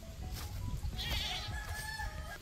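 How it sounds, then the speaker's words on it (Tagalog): Goats bleat outdoors in the mountains, a few wavering cries close by over a background of rustling and movement, with a chicken or other fowl faintly audible. "Ayun na, nagtakbuhan na yung mga kambing."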